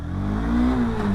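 A 2023 Honda CB200X motorcycle engine revs up as it accelerates in first gear, a loud, close, rising mid-pitched drone over a low rumble.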